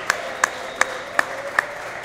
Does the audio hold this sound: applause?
yes